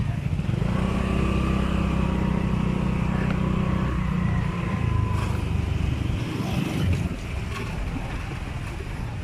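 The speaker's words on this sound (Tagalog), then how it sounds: "ang jeep o itong truck ng Masbate City na kumukolekta ng basura ay kumukolekta na rin" Heavy vehicle engine rumble from a Masbate City garbage collection truck in typhoon-swept Bagong Bayan, a steady loud low drone with wind and street noise throughout.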